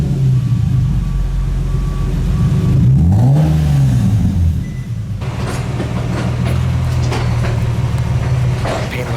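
A Lexus IS300 SportCross engine with an aftermarket exhaust fires up from a warm start and revs, its pitch swinging up and back down before settling into a loud, steady idle close by.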